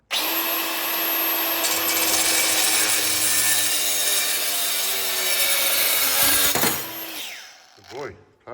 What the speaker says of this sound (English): he's going to put them into the vise and cut them for me and have a go with the grinder